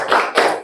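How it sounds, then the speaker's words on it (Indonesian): A class does a rhythmic spirit clap, two quick bursts of many hands striking together in close succession, loud and near with no talk. "Tepuk semangat."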